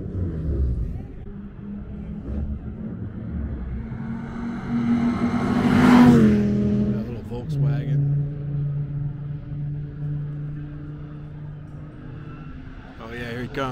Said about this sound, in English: that Audi, honestly, I have a feeling he's going to be flying by here when he comes through